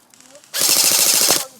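An airsoft gun fires a quick rapid burst of shots during a game on an outdoor field, a close, sharp rattle lasting about a second after a quiet moment.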